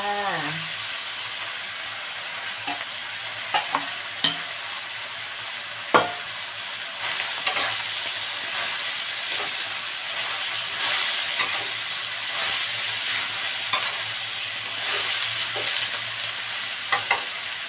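Minced pork, spinach and red chili stir-fried in a hot pan: a steady sizzle with clinks and scrapes of the spatula at irregular intervals, close and fairly loud, with no talking.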